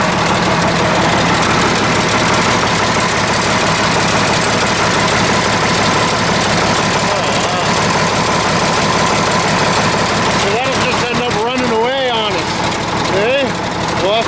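A truck engine with a turbo idles loudly and close, a steady heavy rumble with a knocking edge. The turbo is blowing oil. A voice is heard partway through.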